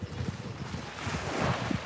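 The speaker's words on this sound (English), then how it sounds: "the sound of the waves is so peaceful today" Ocean waves wash steadily in a broad, continuous roar with gentle swells and some wind buffeting, close and filling the scene with no voices.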